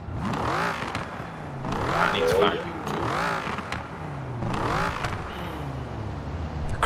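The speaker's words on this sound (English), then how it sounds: "The crackle and pops, I love them." A car engine in the Forza racing game revs up and down repeatedly, with exhaust crackles and pops that rise and fall in several loud, close bursts.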